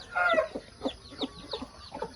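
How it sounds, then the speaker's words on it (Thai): Hens and chicks in a fighting-cock breeding pen on a farm, a quick series of close clucks and short calls, with a higher peeping note at the start and no talking. "เช้านี้เราพากันมาดู คอกผสมไก่ชนนะคะ"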